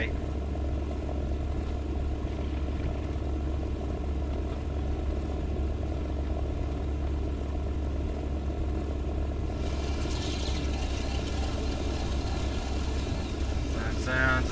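A bomber's aircraft engine drones at a steady, constant level in the War Thunder combat game, a low continuous hum with a brief brighter burst of noise toward the end.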